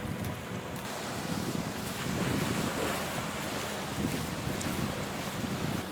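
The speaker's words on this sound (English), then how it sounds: "Look at the waves coming in." Ocean surf rolls in on a Sandy Hook beach, a continuous wash of breaking waves mixed with gusty wind buffeting the microphone, steady and fairly loud with no voices.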